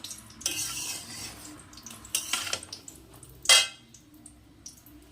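Chorchori vegetables stirred in a pan make a few scraping sweeps and clinks of the spatula on the metal, soft and spaced apart, with a quiet sizzle underneath.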